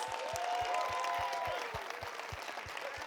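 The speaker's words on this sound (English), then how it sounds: "So let's give this class a huge round of applause." An audience applauds a class of fifth graders with steady, sustained clapping that continues throughout, moderately loud and tapering slightly toward the end.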